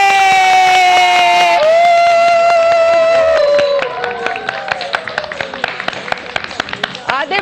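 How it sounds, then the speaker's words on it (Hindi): Studio audience and children at a TV morning show clap and cheer, loud and sustained at first, then settling into scattered, uneven claps. "K2 के लिए तालियां बजाएं।"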